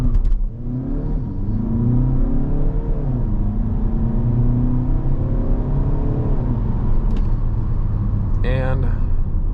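A 2021 Volkswagen Arteon Shooting Brake with the 2.0 TDI engine launches hard under launch control, its engine droning and rising through the gears, heard loud from inside the cabin with a voice speaking over it.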